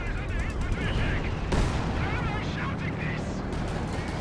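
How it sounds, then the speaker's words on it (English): Assault artillery barrage in Company of Heroes 2, a rumbling wash of distant shell bursts and gunfire that runs throughout with a sharper impact midway, under a dense battle soundscape. "Some assault artillery is going down here."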